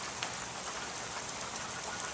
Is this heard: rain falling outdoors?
yes